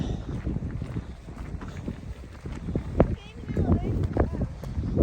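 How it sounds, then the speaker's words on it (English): Gusty wind buffets the microphone in uneven bursts on a Colorado mountain trail at rising elevation, with footsteps and a voice speaking over the blustery rumble. "It's getting windy fast too, huh?"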